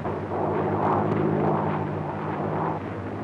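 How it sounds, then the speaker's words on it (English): A propeller plane's engine roars loud and close in a sustained, throbbing drone that swells and holds, with no voices over it. "Start your motor and take off at once."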